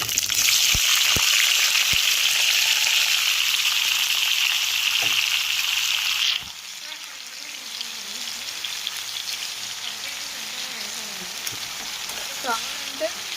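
Chopped ridge gourd and dal sizzle loudly in hot oil in a pan, a bright steady frying hiss that drops suddenly partway through to a quieter simmering crackle with occasional stirring clinks.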